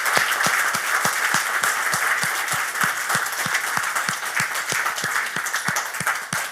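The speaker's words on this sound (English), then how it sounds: "can I get a big round of applause for my co-host, Henry Viola?" An audience at a live investing-strategies event gives a steady round of applause, many hands clapping together in a dense, sustained wash with crisp individual claps standing out, no talking.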